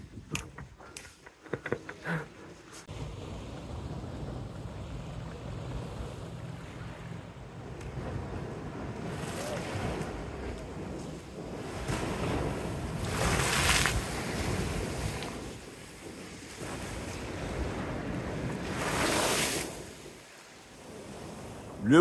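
Sea waves washing over a pebble shore along a coastal path, a steady wind-blown rush of surf with swells rising and falling, loud and close, no voices.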